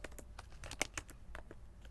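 Typing a terminal command on a computer keyboard, a short burst of crisp, close key clicks in an irregular rhythm, quiet and alone.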